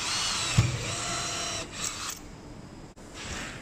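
A power drill bores holes during a mechanical installation, a steady whirring tone running for a few seconds with a brief bite near the start, heard close up with no talking.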